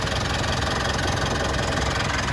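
A 2016 Mitsubishi Pajero Sport Dakar 2.4 automatic idles with the bonnet open, a loud, close, steady diesel-like rumble with a continuous even clatter and no voices.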